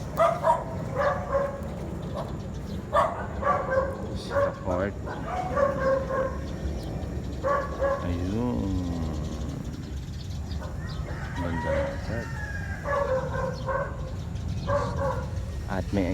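Dog barking outdoors in the Philippines, repeated sharp barks in quick bursts throughout, moderately close, with chickens clucking and people talking underneath.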